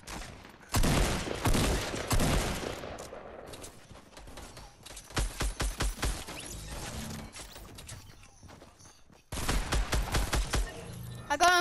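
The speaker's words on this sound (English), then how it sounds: "Shoot the grenade launcher up." Fortnite gameplay where a grenade launcher fires in rapid bursts of sharp blasts and clattering impacts, with pauses between volleys, fairly quiet overall, with brief voices in between.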